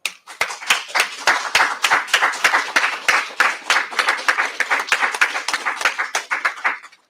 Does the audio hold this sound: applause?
yes